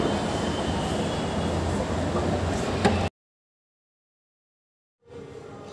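A Delhi metro train roars and rumbles loudly at a station for about three seconds. After a sudden cut to silence, fainter rail noise resumes.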